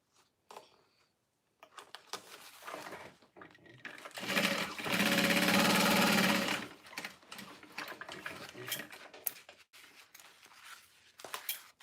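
A sewing machine runs a short burst stitching a half-inch seam joining a side panel to the bottom of a gusset, surrounded by soft clicks and fabric handling before and after.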